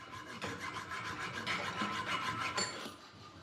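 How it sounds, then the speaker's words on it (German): A hand file rasps steadily across a workpiece clamped in a vise, filing it straight in a training workshop; repeated close, even strokes with no talk. "Jetzt einspannen und gerade feilen."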